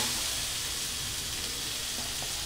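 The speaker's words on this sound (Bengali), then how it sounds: "আলুটা একটু ভেজে নিই।" Boiled Chandramukhi potatoes frying in a pan, a steady close sizzle and hiss that runs unbroken and fairly quiet throughout, with no talking.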